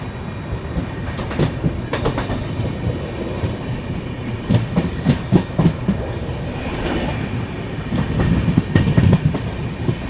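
The Karnataka Sampark Kranti Express rumbles through a station at Arsikere, with loud, continuous wheel clatter and rhythmic clicking of cars over rail joints, close and steady with no voices.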